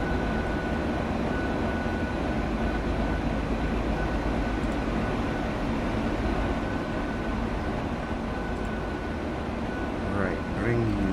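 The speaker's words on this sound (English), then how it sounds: "First I'll just get the train on the go." A train running in the video game Transport Fever produces a steady, dense rumbling drone that continues for the whole stretch, with a faint tonal hum over it.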